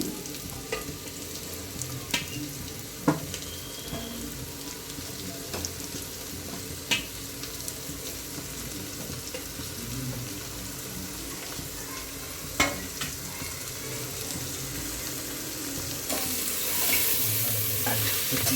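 Cut mushrooms sizzle in a pan with golden fried onion and curry leaves, a steady crackling fry broken by occasional spoon clinks and stirring, close and moderately loud.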